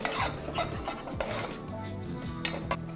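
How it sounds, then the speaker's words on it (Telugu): A spoon scrapes and clinks steadily against a metal pan while coriander powder is stirred into a masala for a coconut mutton curry, with faint sizzling underneath and no talk. "కొద్దిగా ధనియా పొడి వేసుకున్నాం కదండి బాగా కలిపేసుకుందాం"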